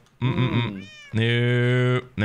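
A cat meows close by, first a short choppy meow and then a longer drawn-out one, while a voice speaks briefly in between.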